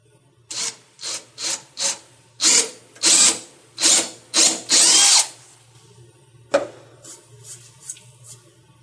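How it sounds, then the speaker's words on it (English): A drill bores into wood in a series of short bursts, about a dozen pulses, some longer and louder, close up with pauses between. "now that I've got a hole drilled in this"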